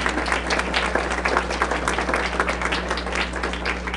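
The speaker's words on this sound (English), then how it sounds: "they deserve a round of applause" Audience applause in a room at an accessibility conference, a steady, dense wash of many hands clapping throughout, over a constant low electrical hum.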